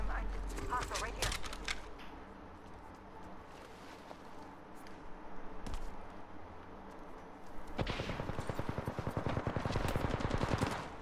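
Enemy gunfire in the Apex Legends battle royale game, with bursts of automatic shots, a sparser stretch in the middle and a dense rapid volley building near the end, mixed with game sounds and a player talking.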